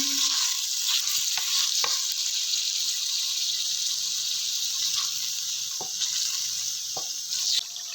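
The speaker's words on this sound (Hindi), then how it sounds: "इसको अच्छे तरीके से मिक्स करेंगे।" Mutton masala paste stirred in a kadhai for mutton kadhai gives a steady close sizzle and frying hiss, with a few soft spoon scrapes and clinks scattered through and no voices.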